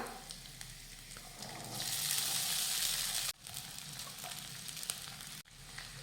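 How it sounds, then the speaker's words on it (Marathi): Soaked sabudana tossed into potato pieces frying in ghee, giving a steady close sizzle that swells louder midway and is broken by two brief stirring pauses, with no voices. "आता यामध्ये घालूयात भिजवून घेतलेला साबुदाणा"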